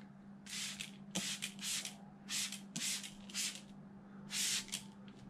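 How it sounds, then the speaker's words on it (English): A spray bottle mists soapy water onto a flipped-over decal for an Arrma chassis protector, giving about six short hissing bursts in an uneven rhythm, close and fairly soft over a faint steady background hum. "I'm going to spray a light mist."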